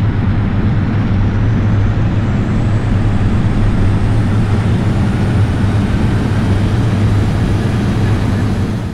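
Boeing 777 reverse thrust roaring after touchdown in Flight Simulator 2004, a loud steady engine rumble with broad noise that holds for the whole stretch and fades slightly at the end.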